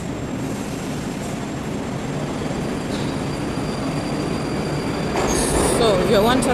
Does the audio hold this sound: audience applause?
no